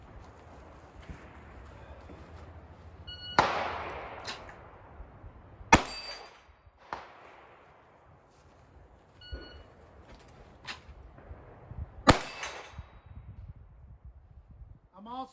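Gunfire strikes steel plates on a rack during a drill, producing a few sharp metallic pings and reports spread across the clip over steady background noise.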